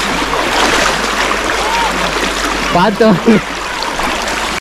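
Rushing stream water at a small waterfall near Salem, a steady loud broadband rush throughout, with excited voices calling out over it.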